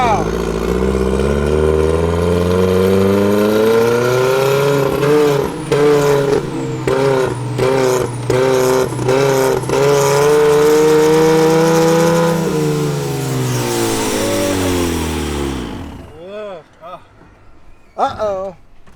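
A turbocharged and supercharged car engine revs hard and close. Rising and falling pitch sweeps carry a clatter of rapid bursts, then the engine dies away into sputtering stumbles as it fails to keep running. Voices can be heard over the noise.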